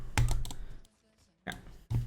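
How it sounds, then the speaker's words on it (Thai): Computer keyboard keys are pressed in short clustered clicks close to the microphone, a quick burst of several taps, a pause, then two more presses, while a man plays the FiveM online game. "ดูแป้นคีย์บอร์ดผมไว้นะ"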